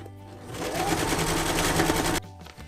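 A sewing machine stitches Cuben fiber ripstop for a zippered backpacking pouch, a rapid close mechanical whirring burst that runs about two seconds, then stops abruptly.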